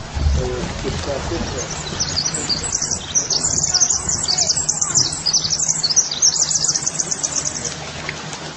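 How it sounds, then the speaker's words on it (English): Recorded natural radio emissions of the Earth sound like a dense chorus of high bird-like chirps and tweets, carried continuously under a speaking voice. "When we hear the sound of the earth, we can see it sounds deeply similar to the sounds of birds singing."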